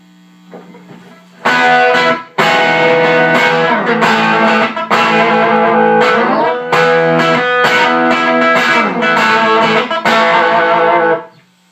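Overdriven electric guitar through a small tube combo amp with its boost engaged, strummed chords and riffs with thick gain, played alone after a brief quieter lead-in.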